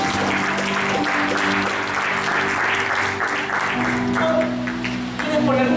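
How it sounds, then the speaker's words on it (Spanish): Church congregation applauding for a woman at a service, a continuous wash of clapping under ongoing talk and a sustained musical tone, steady in level throughout. "un aplauso para ella"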